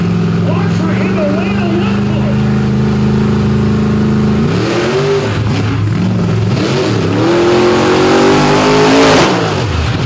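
A drag race truck launches on its solo bye run at a night event in Benson, North Carolina, its engine roaring loud and close, then climbing in pitch through rapid shifts over a steady rumble.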